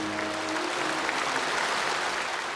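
Attendees at a Communist Party congress in Beijing applaud steadily, a dense wash of clapping filling the hall throughout, with a faint voice briefly at the start.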